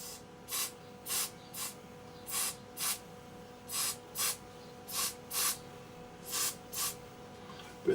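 Short bursts of switch cleaner are sprayed onto the switches of a York JCB 863 tractor during a service, about thirteen sharp hisses in irregular pairs and singles against a quiet workshop background.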